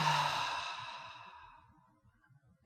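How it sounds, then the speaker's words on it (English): A slow, audible exhale during a guided meditation, a soft breathy sigh that fades gradually over about two seconds, close and alone. "I am breathing out."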